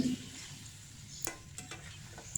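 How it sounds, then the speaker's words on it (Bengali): Prawns cooking in a pan on a home stove, heard as a steady soft sizzle with a few light clinks and stirring scrapes, close by with no talking. "সেটা এক পাশে দিয়ে কলা চিংড়ি মাছ রান্না করতেছি"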